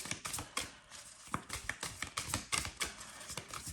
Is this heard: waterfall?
no